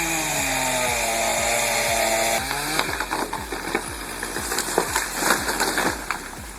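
A chainsaw cutting into a tree, its engine droning loudly and then bogging into rough, choppy sawing as the chain bites the wood.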